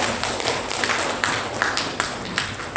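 An audience at a monthly village coordination meeting claps, a dense patter of hand claps with a few louder taps standing out, filling the short moment without talk.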